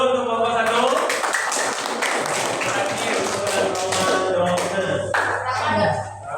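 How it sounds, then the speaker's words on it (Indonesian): Students in a classroom clap for the first group: a continuous patter of many hands under background voices, fading slightly at the end. "Berarti tepuk tangan dulu untuk kelompok 1."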